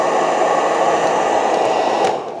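A 1200 W hair dryer running with a steady, loud airy whir close by, holding constant before tapering off near the end.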